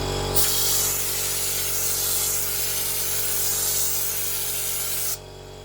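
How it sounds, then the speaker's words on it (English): A compressor-fed spray gun sprays Raptor bed liner as underseal on an R32 GTR Skyline: one continuous loud, close hiss lasting about five seconds over a steady low hum, then cutting off abruptly. "I'll let the compressor build up and then we'll take it out and go from there."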